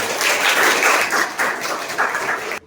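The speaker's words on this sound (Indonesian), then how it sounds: "berikan tepuk tangan" Students in a classroom giving a round of applause, a short burst of moderately loud clapping in uneven waves that stops abruptly after under three seconds.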